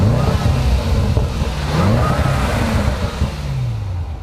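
A supercharged 5-liter V8 in a Range Rover SVR revs hard, a dense loud engine roar with rising and falling pitch sweeps, steady and close throughout.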